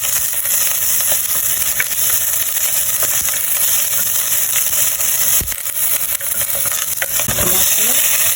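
Curry leaves, onion and mixed spice fry in a pan for a sardine curry, with a loud continuous sizzle, occasional stirring scrapes and sputtering pops, no talking.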